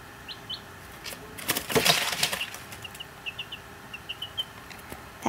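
A barred rock chick, about ten days old, jumps and flaps its wings in a plastic tub, a brief burst of rustling wingbeats surrounded by soft peeping chirps.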